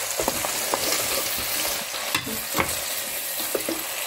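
Ginger garlic paste frying with lightly softened onions in a pan for a palak and daal dish, a steady close sizzle with soft stirring scrapes and occasional clinks, no talking.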